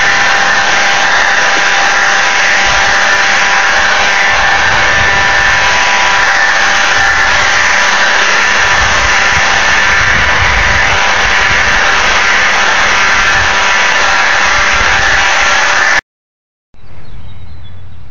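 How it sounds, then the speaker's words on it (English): A Black & Decker cordless battery-powered trimmer/blower runs loud and close at a steady whine for about sixteen seconds, then cuts out briefly before starting up again. "go ahead and do a little bit of blowing and then some trimming with this battery"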